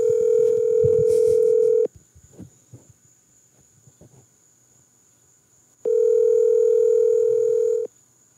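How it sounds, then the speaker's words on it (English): A phone ringback tone sounds in two long electronic bursts separated by a quiet gap with faint shuffling and small noises. "He's looking at the phone right now, waiting for it to stop ringing."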